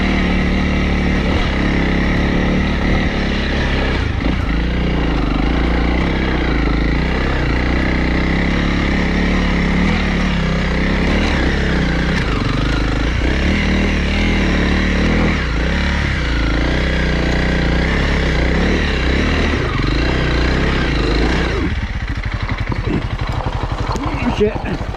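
Honda CRF300L motorcycle engine while riding off-road, a steady, close single-cylinder drone with shifting revs running continuously, a rider talking over it.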